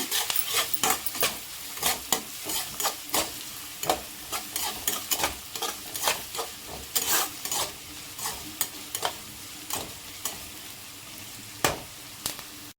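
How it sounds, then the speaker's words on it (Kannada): Chopped onions fry in oil in a pan for chicken curry, a soft sizzle beneath frequent sharp scraping and knocking strokes of a spoon stirring them, uneven in rhythm. "ಈಗ ಸ್ವಲ್ಪ ಫ್ರೈ ಮಾಡ್ಕೊಳ್ಳೋಣ"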